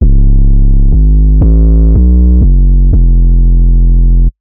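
A beefy, saturated 808 bass sample in Ableton Simpler plays a loud sequence of about six deep notes, several sliding down in pitch between hits. It rings continuously, then cuts off abruptly.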